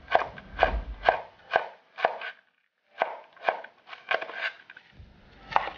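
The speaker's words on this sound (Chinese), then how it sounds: "再切一些青红椒" A kitchen knife chops green and red bell peppers on a cutting board in a steady run of crisp, close thuds. A brief pause breaks the rhythm before the chopping resumes at the same even pace.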